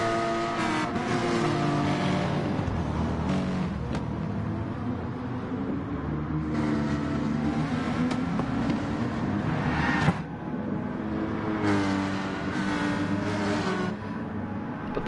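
Race car engines in a racing game at Interlagos, with a Nissan and a Porsche in the field, droning loudly and continuously with rising and falling revs and cars sweeping past, and no talking.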